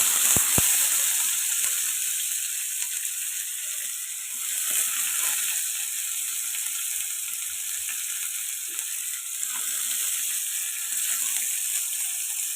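Onion, tomato and coriander sizzle in hot oil in a pan, a steady close frying hiss running throughout with light stirring scrapes, no talking over it.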